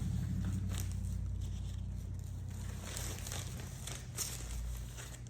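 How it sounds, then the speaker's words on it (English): Plastic bag crinkling softly as seeds are put into it, with faint rustles and crackles close by over low background hum, no speech. "So I have my plastic bag, and I'm gonna go ahead and stick these in here."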